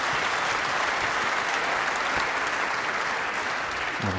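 Sustained, even applause from a snooker match crowd, dense and continuous throughout with no break.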